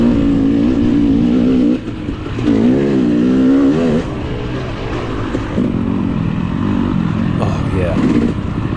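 KTM 300 two-stroke dirt bike at a hare scramble race, engine revving hard and wavering in pitch as it climbs a hill, loud and continuous with talk over it.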